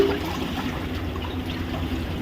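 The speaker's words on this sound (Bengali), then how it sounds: "জলটা আমি এখন ফেলায় দিচ্ছি" Water splashes out of a bucket in a short, steady pouring rush that lasts a couple of seconds, fairly close and with no voices.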